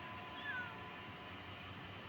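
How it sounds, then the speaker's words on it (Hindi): A soft, brief cat meow rises faintly over a low, steady background hum, heard alone without talking. "म्याऊं सुन ली मैंने।"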